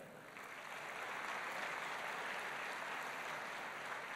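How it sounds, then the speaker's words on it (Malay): Audience applause at a UPSI student pledge ceremony, a steady, dense wash of many hands clapping that swells slightly and holds evenly, heard at a distance and fairly faint. "Berikan tepukan."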